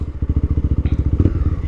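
Honda Twister motorcycle with modifications idling on a street, a loud, steady rapid engine pulse of even thumping beats close by, with a brief rise in revs midway.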